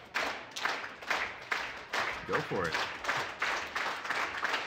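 Wrestling crowd at a TAW Saturday Night Skoden event clapping in a steady rhythmic beat, loud and continuous under commentators' talk.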